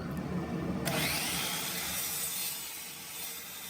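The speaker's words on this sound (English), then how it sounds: "First off is the miter saw, just to cut this bow in half and make it easier to run through the planer." A miter saw slices through a bowed shagbark hickory board, a loud, steady whining cut that lasts throughout and eases slightly toward the end, heard up close with no talking.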